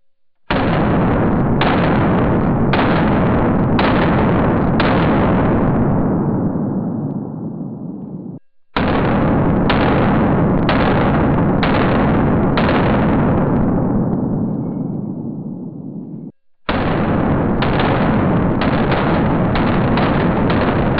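Arex Alpha and CZ Shadow 2 sport pistols in IPSC production class, firing three loud strings of rapid shots at roughly one-second spacing, each string ringing with heavy reverberation before a short pause.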